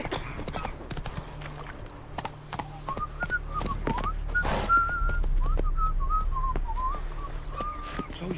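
Horse hooves clip-clopping in The Witcher 3, with crisp strikes at first, then a wavering whistle-like tone rising over a swelling wind or rumble in the middle, and no talking.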